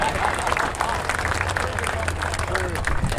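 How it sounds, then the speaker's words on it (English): Crowd applause and clapping from a gathered audience at a Sick Summer drag-and-drive racing event, a steady dense wash of claps lasting throughout with background chatter mixed in. "Round of applause for these idiots."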